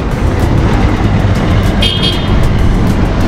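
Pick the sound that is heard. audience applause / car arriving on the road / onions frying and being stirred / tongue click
car arriving on the road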